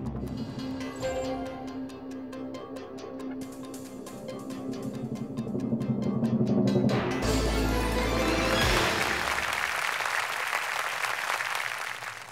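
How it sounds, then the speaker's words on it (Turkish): Studio audience of a Turkish history quiz show claps for a contestant after a correct answer, the applause swelling in over music partway through and then holding as a broad, even patter. "Bu alkışlar hem sizin için hem de başarıyla canlandıran usta sanatçımız Mehmet Atay için de."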